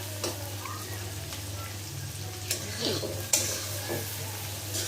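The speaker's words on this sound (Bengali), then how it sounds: "আমি চিংড়ি মাছটা ভালো করে ভাজা দিয়ে নিব বন্ধুরা" Prawns being fried well in a pan, an even sizzle under occasional stirring clinks and scrapes of a utensil, close and moderately loud, no voices.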